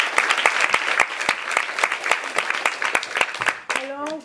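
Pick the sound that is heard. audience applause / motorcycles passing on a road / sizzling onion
audience applause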